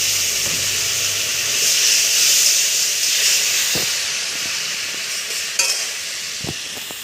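Water poured into sizzling masala for paneer curry makes a loud, steady steamy hiss that swells and then settles, with a few sharp clicks and knocks from the pan.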